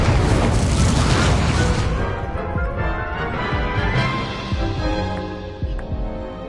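An Incendio fire spell cast in Hogwarts Legacy bursts with a loud, booming whoosh that starts strong and slowly dies away into a rumbling tail over several seconds.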